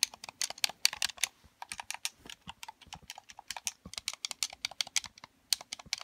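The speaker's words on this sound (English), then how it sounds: "buttons are the same as those noisy clicky buttons" Rapid, irregular clicking from the noisy buttons of an Xbox Elite Series 2 controller, sharp close taps pressed in quick bursts throughout, with no talking.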